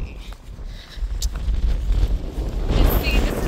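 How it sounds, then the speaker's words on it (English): Strong wind gusting into a handheld microphone outdoors on a walk, a low rumbling roar that swells and stays loud throughout, with people talking over it. "Sorry, it's very windy, actually."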